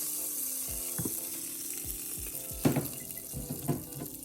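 Mustard seeds, urad dal, dried red chillies and ajwain fry in hot oil, crackling and sizzling with sharp pops and spits at close range, a few louder bursts toward the end.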